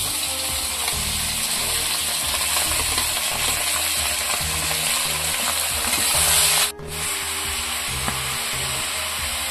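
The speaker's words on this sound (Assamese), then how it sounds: "পিঁয়াজখিনি ৰঙাকে ভাজি ললো এতিয়া দি দিছো মাংস" Duck meat tipped onto reddish-browned fried onions sizzles steadily in a pan, with a continuous hissing fry and stirring scrapes throughout and a brief dip near the end.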